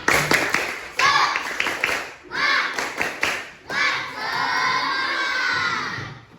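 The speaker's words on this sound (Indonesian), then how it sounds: "Coba tepuk semangat." Primary schoolchildren in a classroom clap a rhythmic spirit chant together, bursts of brisk unison claps mixed with shouted voices, ending in a sustained loud cheer from the whole group, close and lively.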